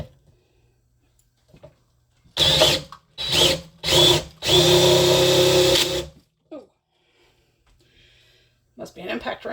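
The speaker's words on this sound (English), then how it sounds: "Must be an impact wrench." A power drill or impact wrench runs in four close, loud bursts, three short and one long, while building a resin table, with brief quiet gaps and a voice afterward.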